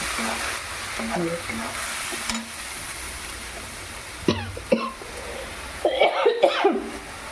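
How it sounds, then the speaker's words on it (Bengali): Coughing and throat clearing near a stove while a spicy fish curry cooks with chillies and spices frying in oil, several short coughs in bursts over a steady sizzle, with a little voice between them. "কাশি উঠে যাচ্ছে আজকে বোধ একটু লঙ্কাটা বেশি হয়েছে"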